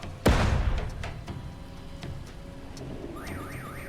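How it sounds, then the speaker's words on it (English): A car alarm blares in the video game Door Kickers 2, loud and close after a sharp burst, then a steady rising-and-falling siren tone that keeps cycling over background game ambience. "Okay, that's an alarm."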